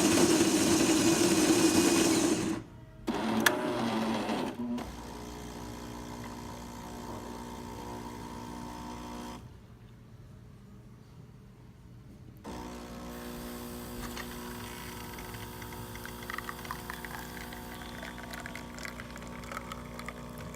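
A Jura espresso machine, fitted with a replacement brew-unit motor, runs a test shot. It gives a steady motorized hum and pump drone with a brief pause partway through, then a quieter stretch before the pumping resumes at moderate level.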